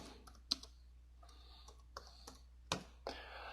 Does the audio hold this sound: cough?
no